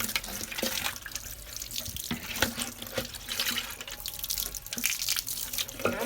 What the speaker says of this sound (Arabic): غادي نمشيو نعمروا ليهم الماء وخل التفاح